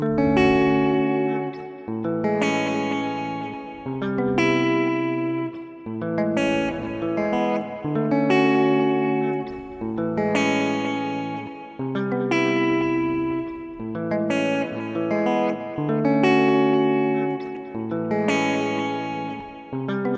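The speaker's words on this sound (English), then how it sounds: "Let's throw in a ping pong delay for fun." Sustained electric guitar chords played in a slow repeating pattern through a ping pong delay in Ableton Live, with delayed echoes bouncing after each strum and washing into reverb.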